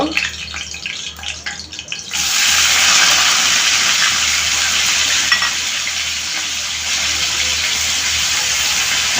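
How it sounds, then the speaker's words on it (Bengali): Chopped onion hits a hot pan of fried chicken and bursts into a loud, steady sizzle that holds for several seconds after a quieter start. "এখন আমি এর মধ্যে পেঁয়াজ কুচি দিয়ে দিব"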